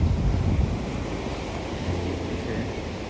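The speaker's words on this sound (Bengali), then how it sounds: "চারিদিকে শুধু জল আর জল, নীল জল" Sea surf rolling onto a beach near Chandrabhaga, a steady broad wash of breaking waves mixed with wind rumbling on the microphone, with no voices over it.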